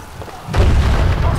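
A sudden loud boom bursts in and rumbles on, a heavy explosion in Dragon Age: Awakening with a sustained low roar and crackle after the impact.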